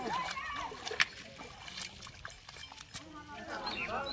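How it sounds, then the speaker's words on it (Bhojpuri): Splashing water as someone wades slowly across a river, with irregular sloshes and a sharper splash near the start, under a steady background of voices and outdoor noise; people talk throughout. "बढ़िया नदी पार कर रहा है"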